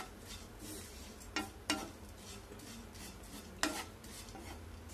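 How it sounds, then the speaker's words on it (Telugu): Oats fry in a pan for oats upma, a low, steady background crackle broken by three or four sharp scraping stirs and a utensil knock, fairly quiet and close. "ఇలా ఓట్స్ని ఫ్రై చేసుకోవాలి"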